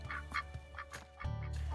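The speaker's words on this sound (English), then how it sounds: "And the ducks were over there eating Henry's, so hopefully they left some." Ducks quack near an outdoor pumpkin-bashing gathering, with a few short calls in the first second followed by a steadier, louder stretch of background noise.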